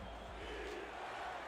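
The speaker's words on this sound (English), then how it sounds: "Aztecs fans on their feet cheering on this defense" Aztecs fans cheer in a stadium during a simulated football game, a steady broad crowd roar with no distinct voices standing out.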